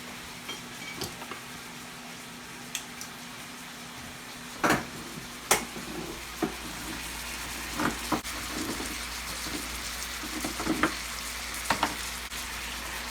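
Carne guisada beef stew cooking in a pan with tomato sauce being added, a quiet, steady sizzle broken by several louder bursts of stirring and splashing.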